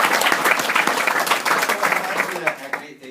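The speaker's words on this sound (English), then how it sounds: "Round of applause for them" Wedding guests applaud after the speeches, a lively burst of clapping from the room for about three seconds with a few voices mixed in, fading at the end.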